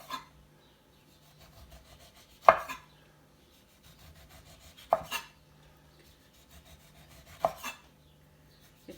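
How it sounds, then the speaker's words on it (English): Knife slicing the ends, peel and pith from oranges on a board, three distinct crisp cuts spaced a few seconds apart with quiet scraping between, close and alone. "cut off the ends, cut off the peel and the pith"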